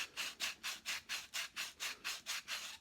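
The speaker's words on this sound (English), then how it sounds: "Sandpaper starts to fold and bend itself into the shape that you're actually sanding" Sandpaper rubbed by hand inside the bowl of a carved wooden spoon, about ten steady, evenly spaced back-and-forth strokes, close and fairly quiet, with no talking.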